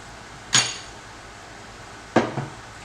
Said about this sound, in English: Give a little stir here.